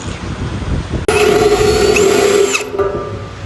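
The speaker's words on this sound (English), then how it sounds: "Drill through the metal, easy." A power drill bites through a metal ammo can to make a pilot hole, a loud, close, steady whining grind that starts abruptly after a second of ambient noise and winds down near the end.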